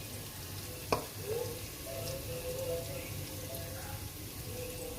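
Mirchi thecha, a crushed green chili paste, frying with coriander powder in a pan, a soft steady sizzle with one sharp clink near the start and faint scraping stirs, no talking.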